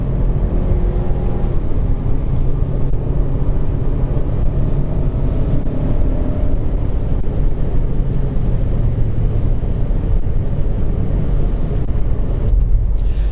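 A Lexus NX 200t F-Sport with a 6-speed automatic accelerates at full throttle, its engine drone loud and sustained from inside the cabin, with road rumble underneath and no talking.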